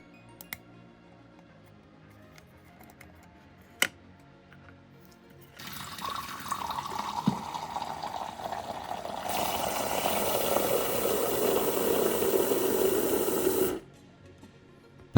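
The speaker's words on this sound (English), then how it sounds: "I'll give the whole thing a good wash in soapy water" A Game Boy Advance SP is washed in soapy water: after some faint clicks and taps, running water starts up and grows into a steady, louder splashing gush for several seconds, then stops abruptly, with no voices.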